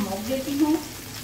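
A few drops of cooking oil hit hot charcoal set beside chicken tikka malai boti for smoking, giving a brief steady sizzle and hiss up close, with no talking.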